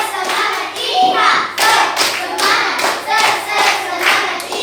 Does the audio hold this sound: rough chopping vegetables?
no